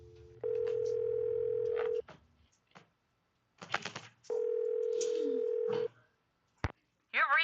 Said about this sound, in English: First, I want to call this unknown phone number